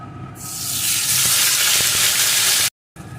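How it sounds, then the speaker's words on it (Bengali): A paste of onion, garlic, ginger and tomato hits hot oil with whole cumin seeds and bursts into a loud, bright sizzle that swells within a second and holds. It cuts out briefly near the end, then returns. "সেই মশলার পেস্টটি এর মধ্যে ঢেলে দেবো"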